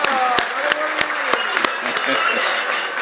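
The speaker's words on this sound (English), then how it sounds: "I think you need a bigger clap than this." Applause from the delegates at a party national congress, a steady wash of clapping with several sharp louder claps standing out and voices talking over it throughout.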